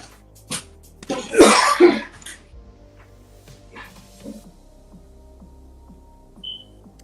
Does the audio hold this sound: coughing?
yes